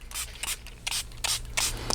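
A spray bottle mists water onto a craft mat in five quick, hissing squirts with short pauses between them, close and distinct, without any talking.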